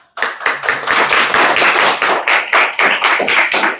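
Students in an English class clap together close by, a loud, fast series of distinct hand claps in an uneven rhythm after a short silence, continuing without talk.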